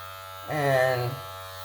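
Wahl Professional 5-Star Magic Clip cordless hair clippers buzz steadily for about half a second, a close, even electric hum that fades out abruptly, over a low background drone.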